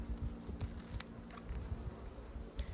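Honey bees hum softly around an open hive as frames of drawn comb heavy with honey are inspected, a faint buzz with occasional louder passes of individual bees close by.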